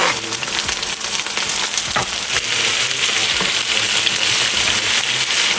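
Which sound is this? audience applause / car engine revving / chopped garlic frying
chopped garlic frying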